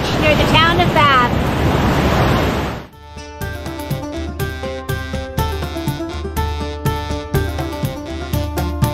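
Surf rolls in at Popham Beach on the Maine coast near Bath, a loud broad wash for about three seconds before it gives way to music with a steady beat.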